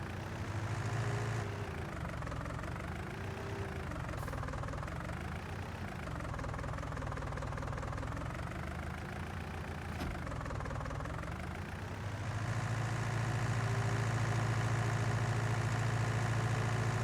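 A tractor engine idles in the Farming Simulator 19 video game, a steady, continuous low drone with a slowly wavering pitch and no talk.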